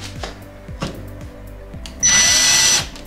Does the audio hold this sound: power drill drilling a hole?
yes